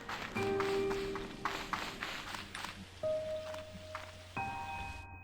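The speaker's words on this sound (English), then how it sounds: "Ooh, it's raining here now too." Steady rain patters over soft sustained musical tones in the video game Slime Rancher 2, with no voices.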